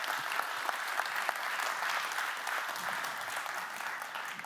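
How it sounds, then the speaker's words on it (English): A room full of people attending a talk on communicating technical ideas to non-technical audiences applauds steadily, dense clapping sustained at even loudness throughout with no voices. "Let's give her a round of applause."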